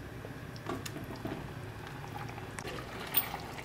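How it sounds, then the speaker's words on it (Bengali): Fish curry broth for a katla fish jhol boils in a pot with soft, low bubbling and gurgling, fairly quiet and close, with a slightly louder pop near the end. "ঝোলটা আমার ফুটে গেছে"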